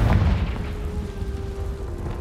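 A Confringo blasting spell explodes in Hogwarts Legacy, a heavy boom up front that rolls into a low rumbling decay, with no talking over it.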